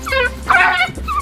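African wild dogs under attack by lions in the bush give high, close yelps and whimpering yips in quick succession, loud and unbroken through a brief burst, with no talking over them.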